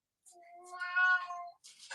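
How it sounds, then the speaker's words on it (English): A house cat lets out a single drawn-out meow, rising and falling in pitch, fairly close and alone, with a little rustling right after. "That's my cat."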